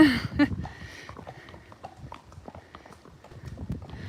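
Hooves of a horse shod in front clop on hard ground in an uneven walking rhythm, close and clear, while people talk over them.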